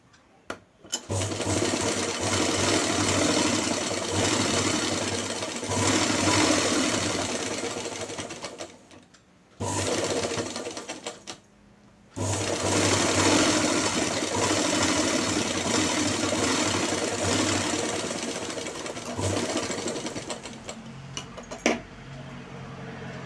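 A sewing machine double stitches a cross strip on a pair of pants, its loud, close whirring running in long steady bursts broken by two brief stops.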